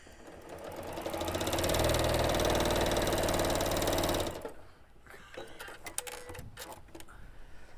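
Sewing machine stitching a straight quarter-inch quilting seam, a steady fast mechanical whir running about four seconds before stopping, followed by light handling clicks and rustles.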